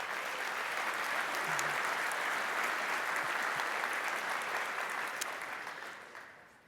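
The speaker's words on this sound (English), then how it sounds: "Give them a round of applause." A large audience at an opening ceremony claps in sustained, dense applause that holds steady for several seconds before tapering off near the end, with no voices over it.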